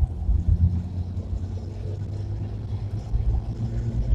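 Five-speed Jeep driving with a steady low engine rumble and drivetrain drone, rising slightly as it moves through the gears, loud and close throughout.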